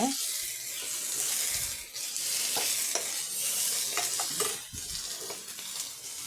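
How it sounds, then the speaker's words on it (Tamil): Water splashes and swirls as a mixer grinder jar is rinsed out in a kitchen during salna cooking, a continuous watery sloshing with stirring and clinking, fairly close and steady, with no talk. "மிக்சி ஜாரை அலம்பி அந்த தண்ணியை நம்ம சேர்த்துக்கலாம்"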